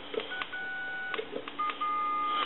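Telephone keypad dialing tones from a repaired Thomas wooden wall telephone with key bounce, a series of held tones of uneven length separated by soft clicks, clear and close.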